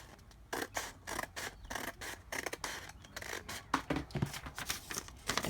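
Scissors snip along a marked line through folded thrifted shirt fabric, a series of quiet, rhythmic crisp cuts and slides, close up and alone.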